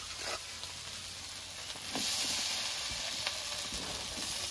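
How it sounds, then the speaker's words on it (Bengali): Fried potatoes tipped into a pan of sizzling, well-cooked spice mix while making banana flower with egg, giving a steady close frying hiss that swells louder near the midpoint, with faint clinks and stirring scrapes and no talk. "এবার ভেজে রাখা আলুগুলো দিয়ে দেবো।"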